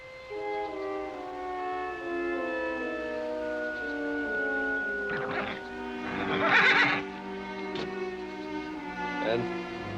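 A horse whinnies loudly partway through, over a dense bed of sustained music and low background rumble.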